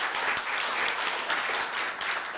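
Sustained audience applause fills a university forum hall after dignitaries are introduced, a dense steady clatter of many hands clapping at even loudness throughout with no voices over it.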